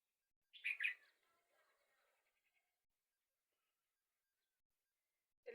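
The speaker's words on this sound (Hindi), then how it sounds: "ये बुलबुल बहुत बेबाक है।" A bulbul gives a short, bright burst of chirps, then a few faint trailing notes, followed by near silence until another call begins at the very end.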